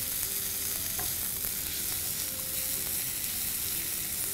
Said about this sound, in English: I'm going to cook this on high heat for about 1 to 2 minutes till the edges of the salami go slightly brown